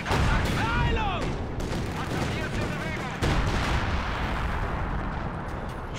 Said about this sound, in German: Sie schießen auf uns!